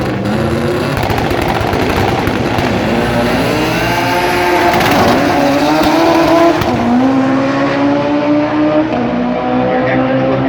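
An import race car does a massive burnout at a drag event, with a loud, sustained roaring engine and screeching tires that stay close and overpowering for the whole stretch, without a break.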